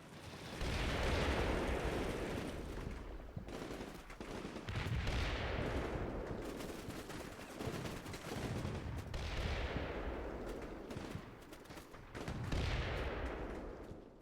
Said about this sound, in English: On turn 27, I order the Vulcan to target that house again, successfully this time